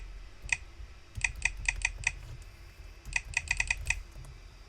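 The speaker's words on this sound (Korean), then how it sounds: "자, 입력하고 엔터를 키보드 쳤고요" Password typed on a computer keyboard, ending with an Enter press: two short bursts of crisp, close key clicks separated by a pause, over a quiet room hum.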